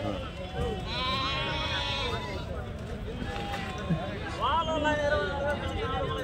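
Goats bleat several times amid a bustling crowd at a goat market, their cries rising over steady chatter and background noise.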